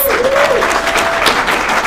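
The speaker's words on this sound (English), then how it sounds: "give a huge round of applause" A crowd applauds loudly and steadily throughout, dense clapping with a faint tone sliding underneath.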